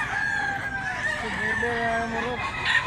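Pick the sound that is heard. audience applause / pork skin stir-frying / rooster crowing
rooster crowing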